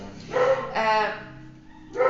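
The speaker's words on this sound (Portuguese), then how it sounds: "tem uma pessoa passando na frente do portão, então, né, eles vão latir" Dogs bark at someone passing in front of a house gate: a few close, loud yapping barks in quick succession, the last one cut short at the end.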